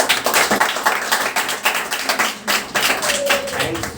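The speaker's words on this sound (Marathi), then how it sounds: "जोरदार टाळ्या वाजवायच्या." A room of students claps loudly at a lecture: dense, continuous applause with sharp, fast hand claps, close and vigorous from start to finish.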